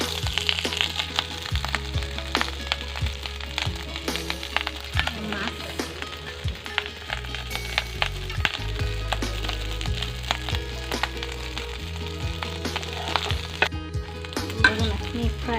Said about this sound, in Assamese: মাছৰ পেটু, ভাত আৰু পিঁয়াজ দি ভাজা আছে ইয়াত।